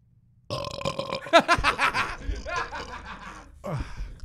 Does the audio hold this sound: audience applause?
no